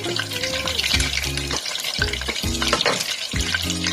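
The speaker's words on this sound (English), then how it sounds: "Fry the garlic with the butter." Garlic fries in butter in a pan, a steady close sizzle with stirring scrapes, while background music with a bass line plays over it.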